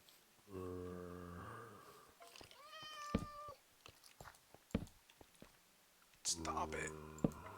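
A cat meows repeatedly in the Minecraft video game, several drawn-out in-game meows spaced apart with scattered clicks and someone speaking between them.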